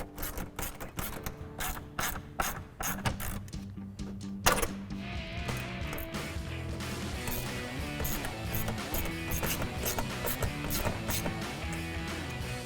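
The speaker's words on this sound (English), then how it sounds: "Now we'll tighten up the two clamps on the air box with our 12mm socket." Rapid clicking of a 12mm socket ratchet tightening the air box clamps of a cold air intake on a 2018-2023 Mustang EcoBoost, dense repeated ticks running steadily and close up with no talk.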